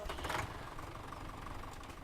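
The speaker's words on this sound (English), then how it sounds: "So here we have our tractor and trailer ready to" A tractor engine idles with a trailer hitched in Farming Simulator 17, a steady low rumbling drone with no words over it.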